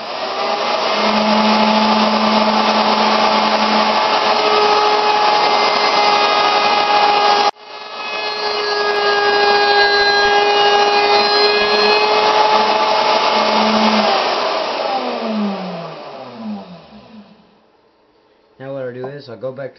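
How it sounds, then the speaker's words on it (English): A wood router rounds over the edges of a wooden key rack, its steady high-pitched whine continuing loud and close with a brief break midway, then winding down and fading near the end. "Go ahead and get this started here and see about rounding over some edges."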